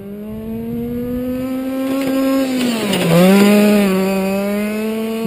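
A gas-powered FG Modellsport Sportline 4WD RC touring car drives by with a loud, buzzing two-stroke whine that holds steady, dips and revs back up as it passes close, then continues.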